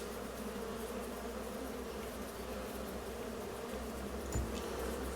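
Bees buzzing around bee houses in the Farming Simulator 25 video game, a continuous dense drone that holds steady throughout, fairly quiet with no talking.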